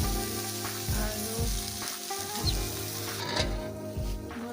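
Potatoes fry in hot oil, a continuous close crackling sizzle with occasional stirring knocks from a utensil in the pan, no one speaking.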